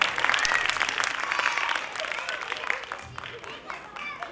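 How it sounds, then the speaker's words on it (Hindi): Audience applause at a dance academy annual function, dense clapping from a crowd that rises and slowly fades, with a voice speaking over it. "रियांश के लिए जोरदार तालियां हो जाए."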